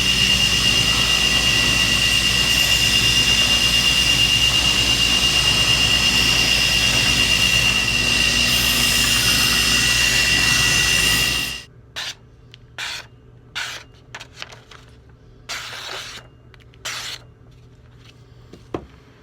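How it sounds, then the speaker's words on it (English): A belt grinder runs loud and steady with a high whine while refining the bevel of a forged Norse-style tomahawk's cutting edge on a 120 grit belt, then stops abruptly, leaving scattered short rubbing and scraping sounds. "I'm just going to refine my bevel and then move to the slack of the belt."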